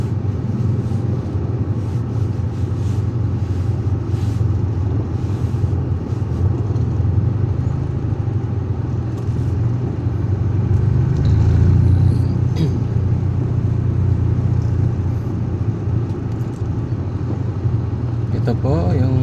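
Road traffic at an intersection in Masinloc, Zambales, makes a continuous close engine rumble of cars and motorcycles that swells midway, with a voice talking over it.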